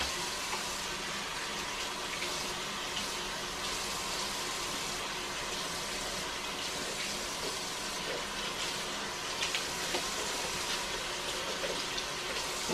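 Water from a tap runs steadily while a bathroom is being cleaned, a constant close splashing hiss lasting the whole stretch.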